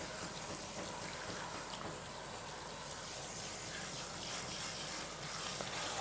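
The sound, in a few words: water running while shampooing hair at salon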